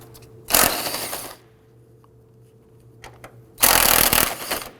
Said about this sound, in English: There's going to be 3 13mm nuts on the top. Let's go ahead and loosen and remove 2 of these.